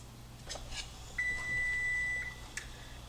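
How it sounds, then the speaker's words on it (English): A kitchen timer set during a ground beef skillet dinner sounds one long steady electronic beep lasting about a second, between soft clicks and handling noises in a quiet kitchen. "Set the timer for 2 minutes."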